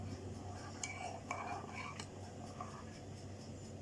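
A spoon stirs a cup holding a little water, giving a few faint metallic clinks against the rim over a quiet kitchen background.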